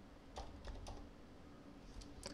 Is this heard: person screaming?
no